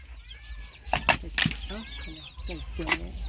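Chickens kept on a small farm alongside ducks give a few short, faint clucking calls in bursts, fairly close and quiet against a low background hum.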